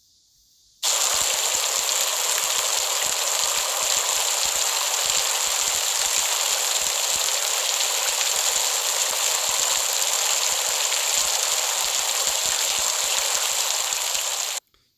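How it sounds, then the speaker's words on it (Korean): Steady, dense rain hiss begins after a brief near-silent moment and runs evenly at high volume until it stops abruptly at the end, with no voices. It is a stock rain effect laid over edited footage in the Kinemaster editor. "비오는 오디오 효과까지도 넣으니까 아주 그럴듯하게 보입니다"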